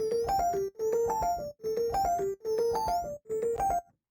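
A felt piano sample, bit-crushed in Ableton Redux with an LFO moving its sample rate, repeats a short melodic phrase five times, each with a gritty, buzzy edge, loud and alone with brief gaps, then fades to silence.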